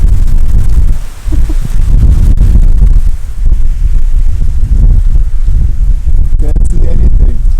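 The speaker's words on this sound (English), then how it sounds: "It's super windy" Heavy wind buffets the microphone in a constant low roar, gusting throughout with a brief lull near the start.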